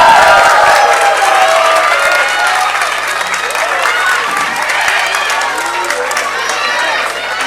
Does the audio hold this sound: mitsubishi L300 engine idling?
no